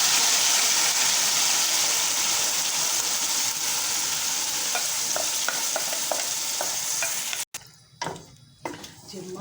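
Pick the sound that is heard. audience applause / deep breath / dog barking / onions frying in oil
onions frying in oil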